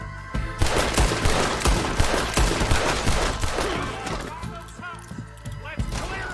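Repeated gunshots ring out in a Wild West shootout in Red Dead Redemption 2, a volley of close, punchy cracks that come in irregular bursts while voices talk over the fire.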